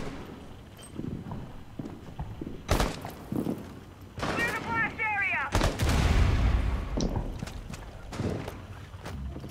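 Gunfire in Rainbow Six Siege cracks out in several sharp, loud shots and a louder burst near the middle, mixed with scattered clatter and debris, while players talk over it.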